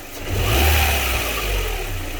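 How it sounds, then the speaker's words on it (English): A car engine on a diagnostic check, revving as the throttle is snapped by hand, loud and close, with a quick rise in engine roar that eases back toward idle. "I'm gonna snap the throttle and see if the voltage changes."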